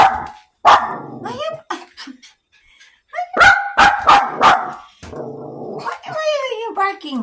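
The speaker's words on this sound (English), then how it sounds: "Why you barking?" A small Maltese dog barks in sharp, repeated bursts at an automatic trash can that opens and closes, close by and loud, with a person talking between and over the barks.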